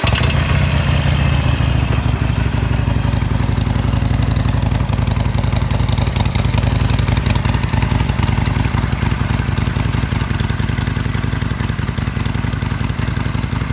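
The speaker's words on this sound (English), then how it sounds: "let's hear how this baby sounds" Harley-Davidson Sportster Iron 1200 with stock exhaust pipes idling nearby, a loud, steady low rumble with an uneven throbbing beat that holds throughout, with no voices.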